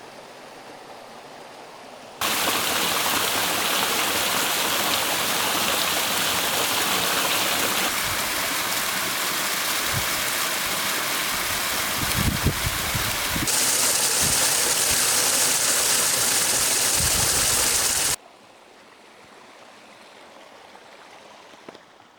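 Small waterfalls in the South Wales valleys pour in a steady, loud, broadband rush that fills the whole stretch close by, with a brighter hiss joining partway through.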